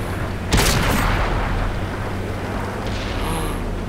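An AMX 13 75 light tank fires its cannon in World of Tanks, one sharp, loud close shot followed by a rumbling decay under steady engine and battle noise.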